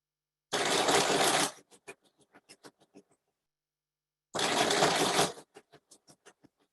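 A sewing machine back stitches a fabric hot pad in two loud, sustained bursts of rapid needle clatter, each trailing off into a handful of slow, separate clicks as the stitching comes to a stop.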